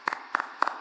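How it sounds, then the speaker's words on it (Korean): A church congregation gives three short bursts of applause for members celebrating birthdays, each a quick cluster of claps, moderately loud in a reverberant hall. "생일 맞이하신 분들 박수로 축복하겠습니다"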